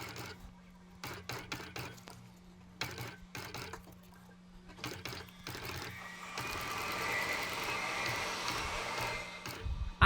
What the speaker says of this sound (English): I do a backstitch to lock the thread in place at both the start and the end points.